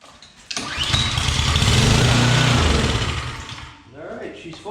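A small pressure washer engine cranks and catches after a spark plug is refitted, firing into a loud, steady run for a few seconds before faltering and dropping off, with a carburetor fault noted.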